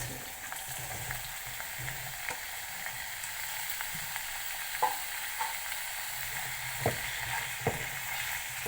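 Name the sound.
sliced potatoes frying with onions in a pan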